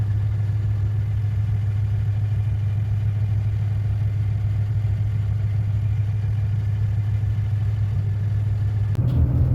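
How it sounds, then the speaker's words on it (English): A 2009 third-generation Dodge Ram pickup on air bags tows a loaded trailer down the road, its engine a steady low droning hum heard from inside the cab, unchanging and alone. "trailer's loaded up. We're cruising down the road right now"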